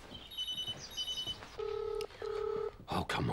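A telephone number is dialed in a TV drama scene: a run of short electronic keypad beeps, then two longer paired tones, moderately faint over a quiet room background before a burst of noise at the end.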